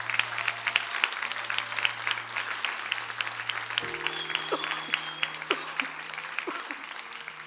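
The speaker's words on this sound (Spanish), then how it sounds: "darle un aplauso al Señor por eso" A church congregation applauds the Lord during a Sunday service, steady clapping spread across a large room for several seconds, with sustained organ or keyboard tones underneath and a brief pitched line partway through.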